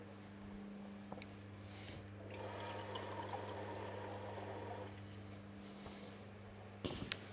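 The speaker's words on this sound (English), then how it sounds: "now about 150 mils of vinegar, 150 mils of water to finish that liquid" Vinegar and water poured into a pickling liquid during a cooking class, a steady liquid pour running for a few seconds over a constant kitchen hum, with a brief clatter near the end.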